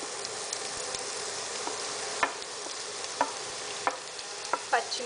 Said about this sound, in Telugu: ఆయిల్ హీట్ అయిన తర్వాత అందులో ఉల్లిపాయ ముక్కలు,